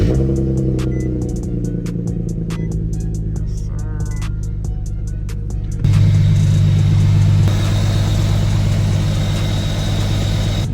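Car engine idling after an oil change, a steady loud rumble that steps up in level midway as the idle shifts, with clicking and whirring mechanical sounds early on.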